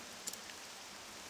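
Steady rain falls in the Octopath Traveler 2 video game as a soft, even hiss that stays continuous and fairly faint, with one or two slightly sharper drips near the start.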